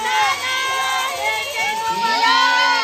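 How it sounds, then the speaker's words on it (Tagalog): A festive crowd of guests, children among them, shouting and cheering together at a first and sixty-fifth birthday party, a loud, sustained burst of excited voices and whoops filling the whole moment. "Sabay-sabay natin sigaw ang happy birthday, Gabriel and Nanay Yoli"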